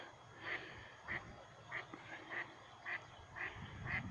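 A mother duck gives a series of short, evenly spaced warning calls near her ducklings, about seven sharp quacks roughly every half second over steady outdoor background noise.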